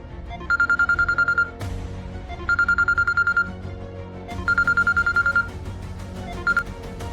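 A telephone rings out in three long bursts of rapid electronic trilling separated by pauses, with a fourth burst cut short at the end.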